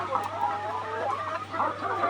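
Layer hens on a poultry farm cluck softly and continuously, several birds murmuring close by over a faint steady electrical hum, with no one speaking.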